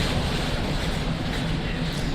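A train in the game The Anomalous Hour pulling away as a steady, dense rumble of wheels and carriage noise, loud and continuous with no talk.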